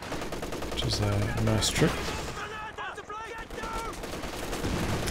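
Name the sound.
machine gun fire in Company of Heroes 2 video game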